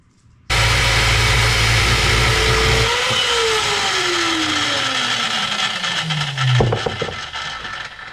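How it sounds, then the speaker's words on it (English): A chop saw cuts through steel box tubing for seat mounts in a 1947 Plymouth P15 Special Deluxe, a loud, steady whining grind that starts abruptly and runs about seven seconds as the blade pitch slowly sinks, ending with a brief clatter. "One cut with chop saw."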